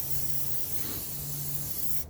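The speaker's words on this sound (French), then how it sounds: "spray acier inoxydable. J'ai envie de le tester, en fait, sur les jantes." Stainless steel cleaner spray applied to a car's wheel rims outdoors: one continuous, close, loud hiss lasting about two seconds, then cutting off abruptly.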